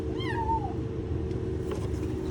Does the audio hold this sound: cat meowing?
yes